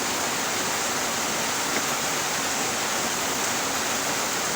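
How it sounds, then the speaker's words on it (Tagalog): Heavy rain pours down in a steady, dense roar of broadband hiss, constant and loud throughout with no voices over it. "Malakas ang ulan dito guys."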